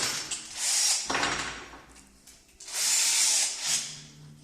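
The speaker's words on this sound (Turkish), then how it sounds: "Dörtlük matkap ucuyla önden ilk evvela" A power drill whines in two long bursts, a 4 mm bit grinding into material while making a whistle arrowhead, with a short pause and quieter handling sounds between them.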